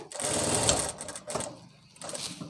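A sewing machine stitching palazzo pants, a close, loud mechanical whir in short bursts, running for about a second, pausing, then starting again briefly.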